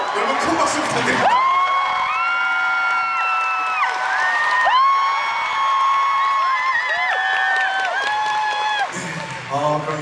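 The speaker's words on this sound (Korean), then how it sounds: "여러분 큰 박수 부탁드립니다" A concert crowd at a show in Seoul cheers loudly, with long, sustained high-pitched screams and shouts layered together and bursts of clapping at the start and end.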